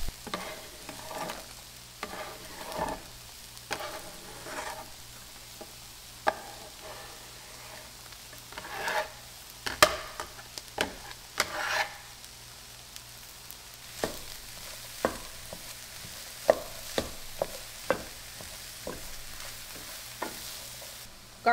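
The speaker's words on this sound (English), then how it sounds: "So the corn is browning up nicely. I think it's time to add the peppers that we just chopped and onions" Corn, chopped peppers and onions fry in a pan with a soft continuous sizzle, broken by scattered sharp crackles and the clinks and scrapes of stirring; no voices.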